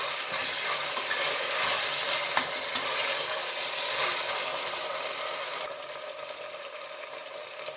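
Potato pulao ingredients are stirred in a pressure cooker, with continuous scraping and a broad frying sizzle close by that softens slightly near the end.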